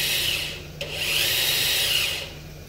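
The horizontal thrusters of a SEAMOR ROV spin up to a higher trim setting, producing a close, steady high-pitched electric motor whine that swells, holds, then eases off over a low background hum.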